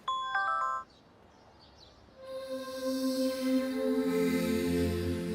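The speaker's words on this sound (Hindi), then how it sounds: "प्रिंसिपल मैम का फोन" A phone ringtone plays as a principal calls: a short electronic chime first, a pause, then a louder melodic ringtone of sustained tones that builds and keeps ringing to the end, with no talking.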